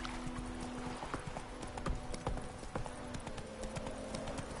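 Roach, a horse in The Witcher 3, gallops in a quick, even clip-clop of hooves, close and steady over a low game soundscape.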